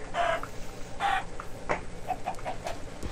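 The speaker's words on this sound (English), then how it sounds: "Chickens." Chickens clucking in the Minecraft video game: several short, clear clucks at a steady close distance, with no talk over them.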